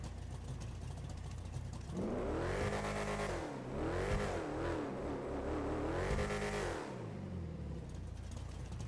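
A car engine in GTA Online revs up hard in repeated swells, rising and falling three times, loud and close, with no talking.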